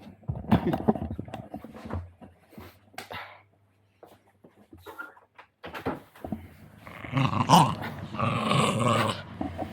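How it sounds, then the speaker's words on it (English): A neighbour's small rescue dog growls in rough, rumbling bursts, close by, with some noisy clatter and scuffling around it, and the growling swells loudest and most sustained toward the end. "that's my cute little neighbour's dog"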